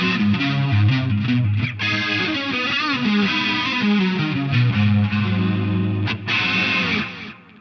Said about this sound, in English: Let's hear a little bit the chorus.